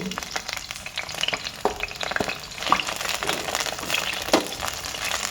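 Brinjal pieces sautéing in hot oil in a kadai, a steady crackling sizzle with sharp pops and the scrape of stirring, close and continuous with no voices.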